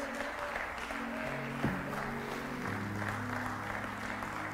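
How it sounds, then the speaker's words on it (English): Church congregation giving a hand clap of praise, a soft wash of applause beneath sustained organ or keyboard tones, steady and fairly quiet throughout. "let's give the Lord a hand clap of praise"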